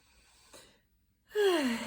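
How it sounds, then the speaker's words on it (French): A person taking a deep breath: a soft inhale, a pause, then a long audible exhale, close and alone. "on va prendre une grande respiration"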